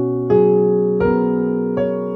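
A piano plays three sustained chords in an even rhythm, each struck cleanly and left ringing into the next, forming the intro to a song.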